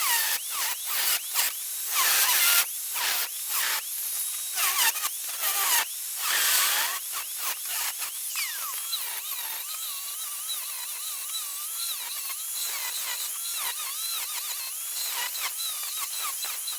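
A power tool grinds a notch into metal tubing for anti-wheel intrusion bars on a drift car, with loud bursts of cutting and hiss early on, then a steadier whining grind that continues to the end.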